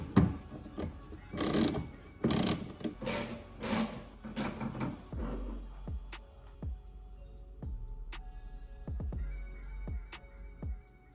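A ratchet backs an 8mm screw out of the tail light bracket on a BMW F34. Louder handling clatter comes first, then a string of quick, crisp, close clicks.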